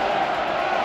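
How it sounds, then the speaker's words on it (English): Hockey crowd at a Panthers vs Edmonton playoff game roaring steadily after a save, a dense, loud wash of cheering voices filling the arena with no breaks. "the crowd has definitely went up a few decibels. And every time Bob makes a save, they love it"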